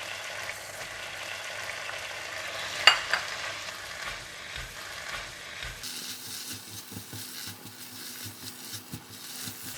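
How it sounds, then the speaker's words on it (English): Vegetable leaves are stir-fried in a pan after the stems, for a Chinese-style stir fry with egg; a soft sizzle with a single sharp clank, then brighter, busier sizzling and tossing, close and without voices. "For the leaf, right, you just give it a stir for about 30 seconds or until the leaf becomes soft."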